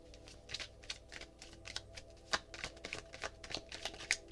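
Oracle cards are shuffled by hand nearby, giving soft, quick riffling and tapping sounds in irregular bursts, fairly quiet and with no voices.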